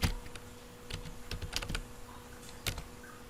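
Keys clatter on a computer keyboard as a command is typed into a terminal, quick irregular taps in short bursts, close and fairly quiet over a faint hum.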